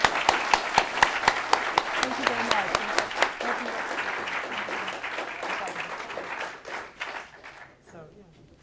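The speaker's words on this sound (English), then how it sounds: "can we applaud wildly and thank him for this wonderful book?" An audience at a book talk applauds the author with sustained, dense clapping that starts with a few sharp, distinct claps and fades out after about eight seconds, while a voice speaks briefly over it.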